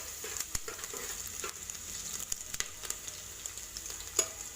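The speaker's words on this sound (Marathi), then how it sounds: "खडा मसाल्यामध्ये आपण ही लवंग घालत आहे, 1 दालचिनी आणि 7-8 मिरी। हे चांगलं परतून घेऊया आपण।" Cloves, a stick of cinnamon and peppercorns sautéing in a cooker for chicken biryani, a soft steady sizzle broken by frequent light clicks and taps of stirring, no voices.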